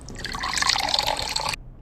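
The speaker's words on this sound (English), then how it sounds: "I'm just gonna pour a little bit onto the left one." A small amount of liquid poured out in a brief, close, hissing trickle that runs steadily for about a second and a half, then stops abruptly.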